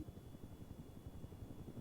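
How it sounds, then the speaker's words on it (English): A mountain rescue helicopter flying nearby gives a faint, steady rotor chop with a low mechanical hum, distant and alone. "Helicopter?"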